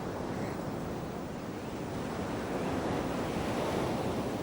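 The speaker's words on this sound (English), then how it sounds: "The surf of the Coromandel coast is dangerous." Dangerous surf breaks along the Coromandel coast in a continuous, loud, even roar of waves with wind hiss and no talking.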